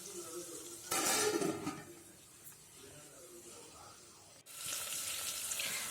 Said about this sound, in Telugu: పచ్చిమిర్చి ఆనియన్స్ తరుగు అనేది వేసుకొని వేయించుకోవాలండి.